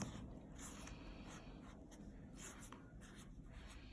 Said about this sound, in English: I'm going to draw some rocks on this like this.